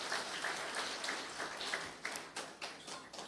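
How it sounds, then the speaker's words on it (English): Audience applause for award recipients at an evening devotional gathering, a steady wash of many hands clapping at moderate distance, fairly faint, with no talk over it. "A round of applause for them."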